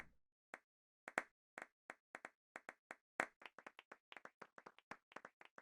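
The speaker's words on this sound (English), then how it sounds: "at the start it was a golf clap" Sparse, slow golf-clap applause from a few hands in the Final Fantasy VIII video game, single claps spaced out at first and then quickening into a denser but still thin patter, fairly quiet with no talk.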